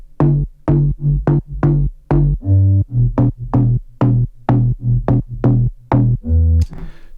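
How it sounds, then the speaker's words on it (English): A deep house synth bass built in Serum plays a repeating line of short, punchy, pitched plucks in a steady groove, loud and up front with no other sounds over it. "The shining star of this remix is the bass."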